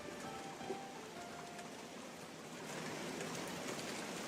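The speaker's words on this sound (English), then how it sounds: "the rain sounds heavier than before" Heavy rain falling steadily, a soft even hiss of drops at low level with no other sounds, growing slightly denser toward the end.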